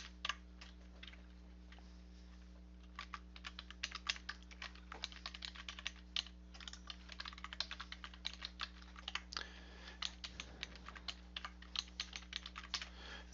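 Quiet, steady keystrokes on a computer keyboard tap out registration details in a rapid, uneven rhythm over a low background hum, with no voices.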